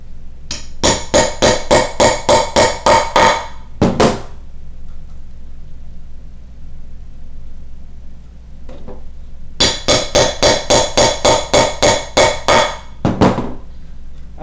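Hammer driving a leather punch through leather laid on a granite slab, two quick bursts of sharp, ringing blows with single strikes after each, close and loud, the tone turning high and bright as the punch meets stone.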